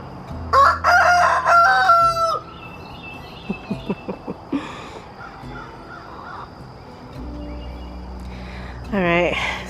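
On a small farm, a rooster crows loudly at the start among chickens, followed by a run of short clucks and another crowing call near the end, while ambient farmyard noise continues underneath.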